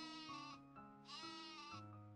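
A goat bleats in an animated Buddhist film, several drawn-out wavering calls in steady succession, loud and close over soft background music, with no talk.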